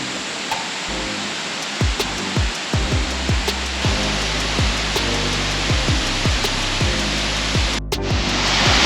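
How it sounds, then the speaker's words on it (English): A tropical waterfall in Far North Queensland roars as a constant broadband rush of falling water, loud and steady, with repeated low thumps and knocks over the top. "This is the last of the 3 waterfalls."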